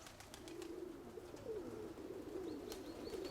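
A pigeon coos in a low, throaty rolling pattern, several calls repeating close by with a faint, steady outdoor hum underneath and no voices.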